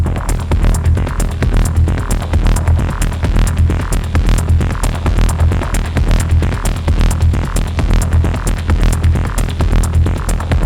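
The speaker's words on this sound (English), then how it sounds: "I know maybe that delay is not the best thing to put on very bassy sounds" A bassy synth sound runs through a Verbos Multi-Delay Processor, producing a loud, dense, pulsing low rumble with rapid rhythmic repeats that throb steadily throughout.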